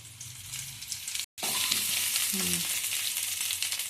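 Potatoes frying in oil in a pan for a palak dum aloo dish, giving a steady, close sizzling hiss with a brief break partway through and no talking.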